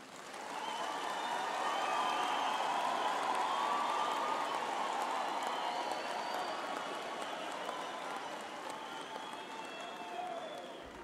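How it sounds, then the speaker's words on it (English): Audience at a university Faculty of Education graduation ceremony applauds the graduates, a broad, sustained wave of clapping that swells in and holds steady, with faint whistles or cheers over it. "can you give our graduates a big hand of applause?"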